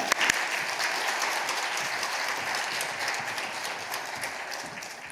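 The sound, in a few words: church congregation applauding to welcome pastor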